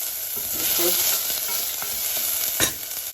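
Chopped onions sizzle and fry steadily in a pan for a brinjal foogath, with a spoon stirring through them and a brief scrape near the end; no talking.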